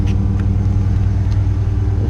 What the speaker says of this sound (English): It has the active exhaust,